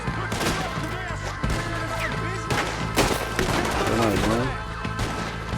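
Rapid bursts of gunfire in a shootout in a video game, with sharp overlapping shots and thuds crowding together through the whole stretch, loud and close, while someone talks over them.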